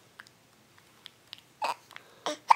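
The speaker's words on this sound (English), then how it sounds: "Oh, you hate those hiccups, huh?" An infant makes a few soft, short hiccups spaced irregularly, with quiet babbling sounds mixed in, close and fairly faint.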